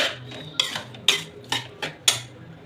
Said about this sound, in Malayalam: ഇഞ്ചി വെളുത്തുള്ളി എല്ലാത്തിൻ്റെയും പേസ്റ്റ് ഇട്ടൊന്ന് ഇളക്കി